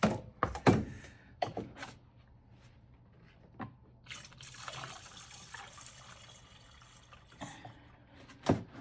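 Coolant is poured from a gallon jug into a BMW radiator, with soft gurgling liquid sounds, intermittent thunks and knocks of the container, and quiet stretches between pours.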